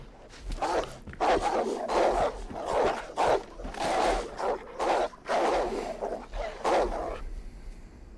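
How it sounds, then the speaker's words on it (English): In the video game DayZ, wolves bark and snarl through a wall in repeated bursts, roughly a dozen rough yelps spread over several seconds at moderate distance, muffled and fairly steady in rhythm. "They're trying to bark through this wall and I'm killing them through it."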